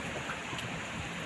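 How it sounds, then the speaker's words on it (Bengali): Heavy rain pours down outdoors as a steady, dense hiss of water with no voices over it. "বাইরে প্রচণ্ড পরিমাণে বৃষ্টি হচ্ছে"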